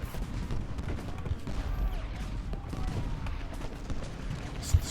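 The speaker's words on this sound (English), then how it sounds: "Skirmishers are still firing away" Skirmishers in Ultimate General: Gettysburg keep up scattered musket fire, a dense low crackle and rumble of distant shots rolling on without pause, with a sharper report near the end.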